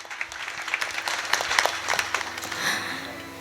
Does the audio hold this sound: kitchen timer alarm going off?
no